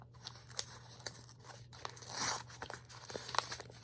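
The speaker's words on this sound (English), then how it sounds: "I feel bad that I'm like ripping it open with my thumb" A paper envelope holding historical documents is torn open by thumb, heard as a series of close, crisp ripping and crinkling bursts with a longer tearing stretch midway.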